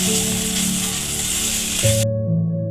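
Fresh chhena curds fry in a pan for a sweet pudding, a loud, close, steady sizzle that cuts off after about two seconds, leaving a low hum.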